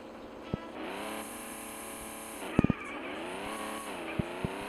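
A Subaru Impreza drag car revs hard under heavy acceleration, its engine note sweeping steadily up and down in pitch as it pulls, close and loud, with a few sharp clicks and knocks on top.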